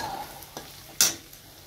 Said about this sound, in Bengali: আজকে ব্রেকফাস্টে বানাচ্ছি পোহা।